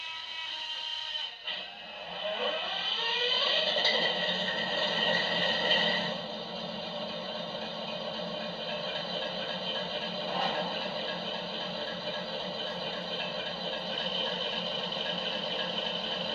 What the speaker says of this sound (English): we'll start the engine